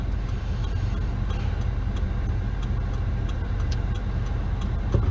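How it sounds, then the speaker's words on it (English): Cars pass along a road in a steady, close rumble of engine and tire noise that continues unbroken, with faint ticking on top and no talking. "There's cars coming."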